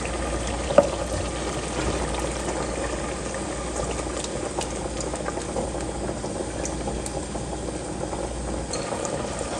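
Chicken kofta curry bubbling and simmering in water in a pan, a steady crackling, burbling texture that runs continuously and close, with one brief louder clink near the start.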